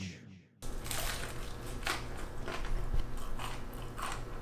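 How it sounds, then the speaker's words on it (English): A sharp crunch as crisp focaccia bread is bitten, followed by steady crackly chewing up close, with a quiet murmur in the background. "eat this thing so you can hear the crunch"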